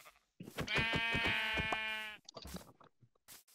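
A single Minecraft-style video-game sheep lets out a clear, wavering bleat lasting over a second, followed by a few soft clicks and thuds in an otherwise quiet scene.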